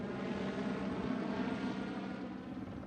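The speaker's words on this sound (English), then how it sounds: "The helicopters are dropping water on the fire." A steady, droning helicopter engine hum fills the scene, continuous and fairly distant, with no voices, as helicopters drop water on a grass and forest fire.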